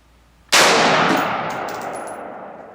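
A single loud rifle gunshot fired at targets through an EOTech 516 sight at an outdoor range, a sharp sudden crack followed by a long ringing decay that fades over about two seconds, with no talk.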